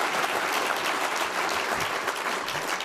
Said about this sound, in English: I think she deserves a clap too